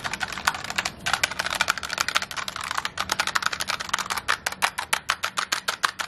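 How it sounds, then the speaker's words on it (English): Rapid, uneven typing on computer keyboards in a shop's keyboard section, a dense clatter of key strikes running for about six seconds, close and loud, ending in slower separate taps; no talking. "All she does, she goes there just to play with keyboards and smash keyboards."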